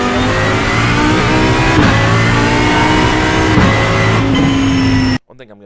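A race car engine in iRacing roars loudly and continuously at high revs, pitch shifting up and down with gear changes, before cutting off abruptly near the end.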